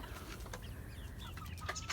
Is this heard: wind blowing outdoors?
no